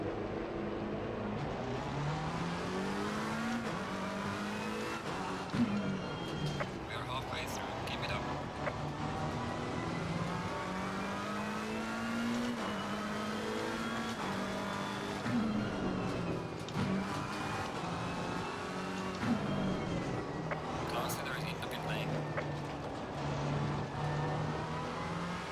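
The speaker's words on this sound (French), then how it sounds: "Elle est sympa cette McLaren, j'ai l'impression qu'elle manque un peu de peps." A McLaren race car drives in the racing game Assetto Corsa Competizione. Its engine drones and rises and falls in pitch through gear changes and revs for the whole stretch, while someone talks over it.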